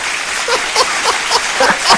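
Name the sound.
audience applause and clapping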